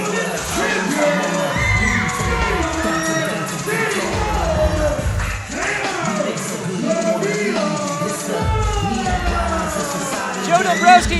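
Fans in the front row at a Juggalo Championship Wrestling event shriek and whoop in high-pitched bursts over loud crowd noise, with voices talking throughout.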